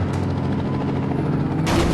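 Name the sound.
helicopter in a video game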